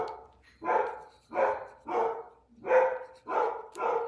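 A dog barking at a delivery truck outside, seven loud, evenly spaced barks close by in a steady rhythm, each a short sharp burst separated by quiet gaps, with no talking.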